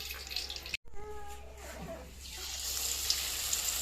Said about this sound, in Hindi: अभी घी सही से गर्म नहीं हुआ। अभी तिज तिज की आवाज़ आ रही है।